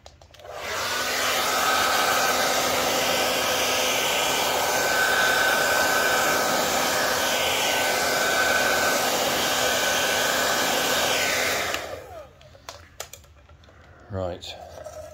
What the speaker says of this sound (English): So just run the hairdryer over this just to warm it up.